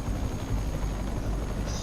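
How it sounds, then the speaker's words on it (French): Helicopter in a video game set around the 85th floor of a tower, a steady low rotor thrum with airy wash, continuous and fairly loud throughout. "Ok, l'oiseau c'est un hélicoptère."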